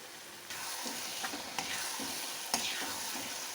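Brinjal is stirred into a spiced tempering in a kadhai for baingan bharta, a close sizzle with several scraping, clattering stirs over a short stretch and no voices.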